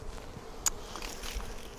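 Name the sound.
bees buzzing around an opened Flow Hive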